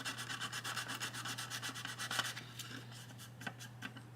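Diorama material being hand sanded in fast, even back-and-forth strokes, close and steady over a low electrical hum, slowing to a few scattered scrapes toward the end.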